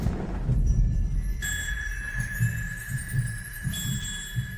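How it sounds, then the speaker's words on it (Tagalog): Heartbeat sound effect in a drama scene, a low thumping pulse repeating under a bright sustained tone and soft ambient score, with no voices. "Bakit ang bilis ng tibok ng puso ko?"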